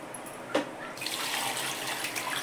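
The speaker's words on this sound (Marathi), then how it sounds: "पाणी घालते त्यात." Water poured into a vessel of soaking wheat grains, a brief splash followed by a steady close rush of running water, with no talk.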